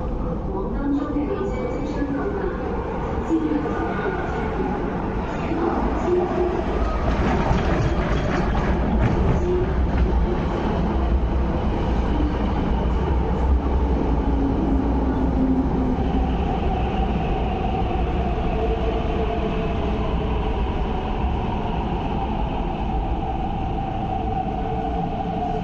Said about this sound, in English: A train to Lok Ma Chau is arriving.